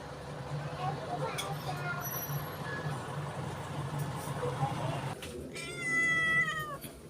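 Two stray cats meow repeatedly, fairly close, over steady background rumble, with a louder, sharper cry near the end; a voice can be heard faintly underneath.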